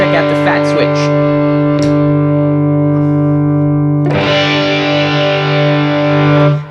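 A guitar plays through a distortion pedal with its fat switch engaged: sustained distorted chords ring out, then a thicker, brighter distorted chord swells and holds until cut off.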